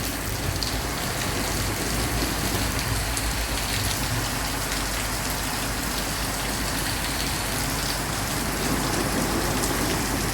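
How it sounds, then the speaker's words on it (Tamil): Heavy rain pours steadily and loudly, a dense unbroken hiss of drops on surfaces that holds constant throughout, with no voices. "நல்லா கனமாக பெய்யுது"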